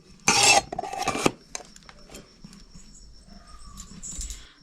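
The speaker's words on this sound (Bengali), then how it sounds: "এবার আমি ঢেকে দিচ্ছি।" Metal lid clattering onto a bowl of raw prawns mixed with mustard oil and green chillies, a loud burst of clinks and scraping followed by faint handling sounds.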